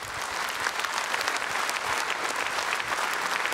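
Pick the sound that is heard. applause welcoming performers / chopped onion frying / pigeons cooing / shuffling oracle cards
applause welcoming performers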